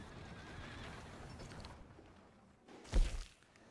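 A horse in the video game Red Dead Redemption II whinnies over soft clip-clop hooves, then a sharp thump comes near the end.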